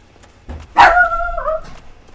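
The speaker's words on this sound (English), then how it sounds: "my dog is barking" A single dog bark rings out inside a house, a drawn-out, yelping cry with a wavering tail. It is fairly loud and close, with low background hum and no talking.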